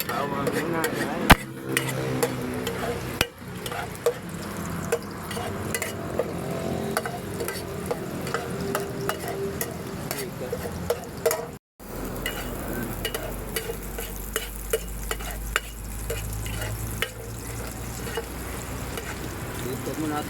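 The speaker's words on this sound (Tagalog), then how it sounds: "Mainit na. Bawang muna, guys." Garlic fries in hot oil in a pan for chicken adobo, a steady sizzle with scraping and stirring clatter throughout, plus a few sharp knocks against the pan.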